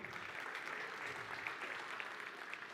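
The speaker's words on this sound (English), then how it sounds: "a round of applause for all of you" Audience applause at a retail launch event for the Garmin Fenix 8 watch: a steady, dense wash of clapping that stays faint and distant throughout, with no voices on top.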